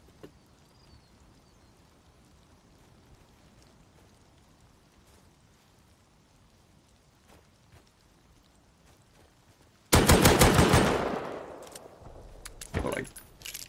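Gunfire in the survival video game Rust: after a long quiet stretch of faint ambient noise, a sudden loud burst of rapid shots erupts and fades, followed a moment later by a shorter, softer second burst.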